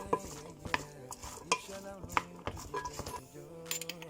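Stirring a dish of chicken with olives and Moroccan salad after seasoning with pepper and salt: irregular scraping and light clinks of a utensil against the bowl, moderately close, with faint background noise.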